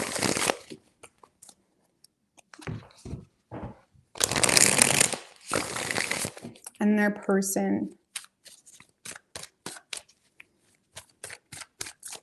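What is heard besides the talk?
shuffling tarot cards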